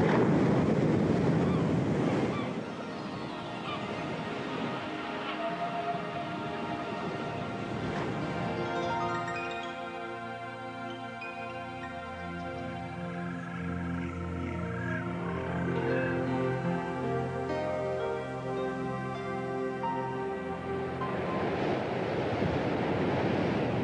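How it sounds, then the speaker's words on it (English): Powerful waves batter an exposed rocky shore, loud crashing surf at the start and end with a steady wind-blown roar and sustained tonal sounds between the breakers. "An exposed rocky shore, one of the harshest environments on Earth because it's battered constantly by these powerful waves."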